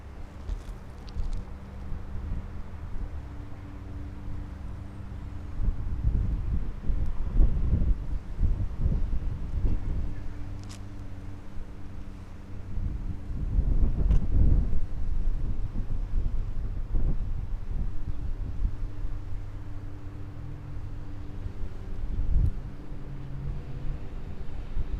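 Northwest wind blowing over a rooftop as a steady rumbling gust noise, buffeting the microphone and swelling in stronger surges partway through, with no talking.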